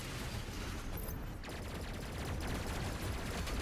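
Rapid, sustained automatic gunfire from a DOOM Eternal battle, a dense continuous stream of shots with a brief dip around a second in before resuming at full intensity, loud and close with no talking.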